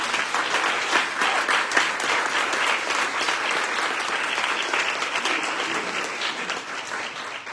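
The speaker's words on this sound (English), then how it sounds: "Let's give them another round of applause." Loud, sustained audience applause at a museum's annual meeting, steady clapping from many people that fades slightly toward the end.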